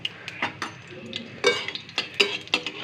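Fritters (bora) being fried in a pan, heard as a series of sharp clinks and scrapes of utensils against the pan over a soft sizzle, fairly close and irregular.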